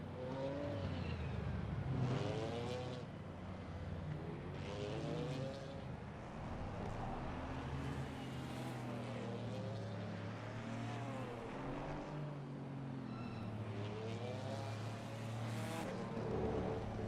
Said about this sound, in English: So here we are, 40 minutes GT4 racing at the Nurburgring.